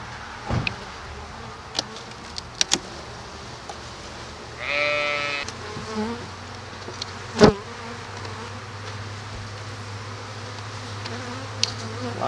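Honeybees in an opened beehive: a steady, moderately loud low drone throughout, with a brief nasal, bleating-like whine near the middle and a few sharp knocks from handling the hive.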